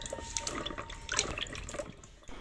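Tap water runs into a sink while radishes are washed, a steady close splashing and trickling with small drips and clinks of handling, no voices.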